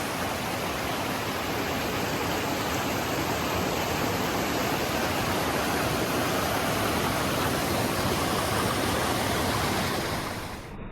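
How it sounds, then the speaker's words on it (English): A big river runs right alongside a forest hiking trail on the way up Mount Marcy in New York, giving a steady, loud, unbroken rush of flowing water that fills the whole stretch without any voices. "The river's running right beside us."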